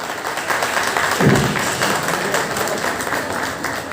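An audience at a Brahmin community honours event in Navi Mumbai applauds steadily, a dense, even patter of many hands clapping that carries on without pause.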